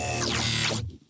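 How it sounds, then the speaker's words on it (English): A vocoder growl synth made in Vital and layered with a low sine wave plays one short, buzzy, vowel-like swell, then cuts off abruptly. "I have this vocoder growl, which is made from a vital."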